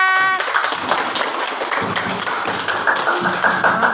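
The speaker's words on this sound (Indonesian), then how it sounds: "Oke, beri tepuk tangan." Schoolchildren in a primary classroom clap their hands together in a dense, lively burst that starts after a brief pause and carries on steadily and fairly loud to the end.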